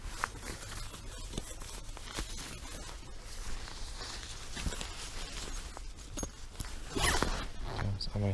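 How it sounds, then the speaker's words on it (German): Zipper on an Amok Draumr 3.0 hammock being worked in a few short, scratchy pulls, close and moderately loud, with rustling fabric and handling noise around it. "Jetzt haben wir hier den Reißverschluss"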